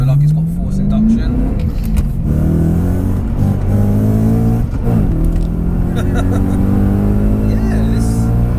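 A 650 bhp supercharged BMW M3 engine revs with a loud, rising drone that climbs in pitch and drops, heard from the cabin while people talk over it.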